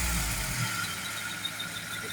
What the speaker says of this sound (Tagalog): ganda nitong makina, ayos na ito